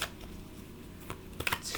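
Tarot cards being shuffled briefly, a soft papery riffle and flutter close by, ending in a few sharper card snaps, with no talking.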